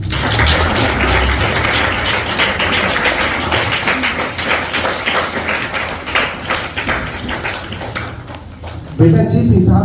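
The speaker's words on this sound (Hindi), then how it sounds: "मुझे लगता है कि तालियां बहुत कम बजाई" Dense, sustained audience applause fills the room for several seconds at a school storytelling event about honesty, loud and steady, then breaks off near the end as a voice begins speaking.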